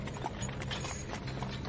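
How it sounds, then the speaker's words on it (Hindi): Horses pulling a coach, hooves clip-clopping in a steady walking rhythm mixed with creaking, rattling wheel and harness mechanics, moderately close and continuous, no voices. "चुपचाप कोच पर सवार हुआ और घोड़े चल पड़े"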